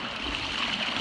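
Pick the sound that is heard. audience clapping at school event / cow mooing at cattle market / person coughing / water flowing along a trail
water flowing along a trail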